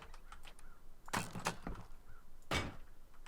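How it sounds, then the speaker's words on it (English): Wooden door placed on a roof access in the survival game Rust, two quick bright knocking thuds about a second apart, near and clear over a quiet background. "Put a door on there."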